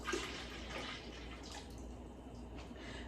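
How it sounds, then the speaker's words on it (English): Stock is poured into a pot of red lentil and black bean chili, a soft, faint splash and trickle of liquid lasting a few seconds. "I have a little more stock. I'm going to add this as well."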